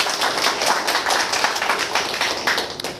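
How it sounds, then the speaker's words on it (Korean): An audience at a Korean talk on mind study and parenting gives a round of applause, with close, dense clapping holding steady for about three seconds and fading slightly at the end. "박수 한번 주십시오."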